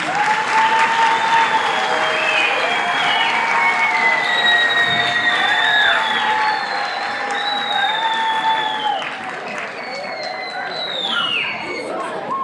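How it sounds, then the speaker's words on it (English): Sustained applause from a large crowd at an arts high school fills the room, with cheering and chatter mixed in, steady and loud throughout. "You all give a big round of applause one more time"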